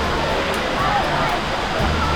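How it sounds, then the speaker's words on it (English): Waterfall at Sai Yok Noi in Thailand, a steady broadband rush of falling water that holds at an even, loud level throughout with no pauses. "There is this waterfall."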